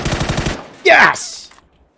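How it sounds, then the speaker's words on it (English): A PUBG firearm fires a quick burst of close, loud shots, followed by a brief sharp mechanical ring and whoosh that dies away into quiet. "I finally shot a guy off a parachute"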